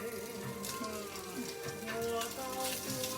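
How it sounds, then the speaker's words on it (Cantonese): Chicken wings sizzle in a dry Noxxa pressure cooker pan with no oil, a steady close crackling hiss running throughout while people talk over it. "雞翼咁樣煎咁樣啫"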